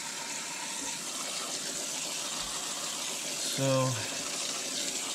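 Running water rinses cleaner and pink oil from the fins of a K&N air filter, a steady close hiss and splash throughout, while someone speaks briefly over it.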